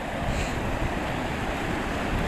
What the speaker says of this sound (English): Let's walk down here to the creek.